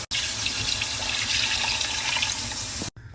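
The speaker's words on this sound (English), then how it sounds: "Water." Water pours steadily into a pot of browning chicken and onion seasoned with nor powder, a bright continuous splashing rush that stops abruptly near the end, close and alone.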